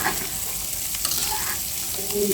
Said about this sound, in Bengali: এখন কিন্তু জালটা কমিয়ে আমি কষিয়ে দেবো আস্তে আস্তে আস্তে আস্তে কষাই নিতে হবে